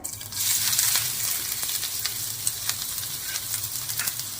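Finely chopped onion sautés in a small amount of hot oil while vegetable momos are being made at home, giving a steady close sizzle with scattered crackles and occasional stirring scrapes throughout.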